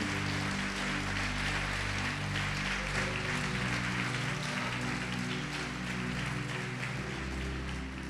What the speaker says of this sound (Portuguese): Pode aplaudir e glorificar Jesus Cristo.